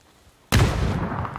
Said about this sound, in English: I hear him on the right side here and cook another nade.